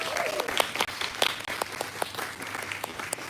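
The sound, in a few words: audience applause for author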